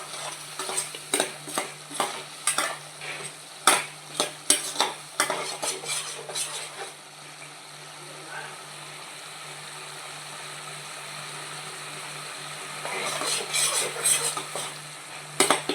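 Masala fries in a pan for capsicum tomato curry while a spoon stirs and scrapes against the metal in repeated clinks, pausing midway and then resuming over a steady sizzle.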